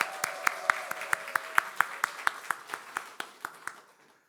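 A church congregation at a Sunday service claps in a steady, even rhythm, about four claps per second, sharp and unison, tapering off after roughly four seconds.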